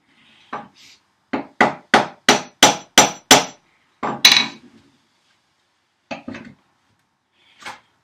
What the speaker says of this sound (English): Let's give it a tap with a hammer, and it should have loosened her up.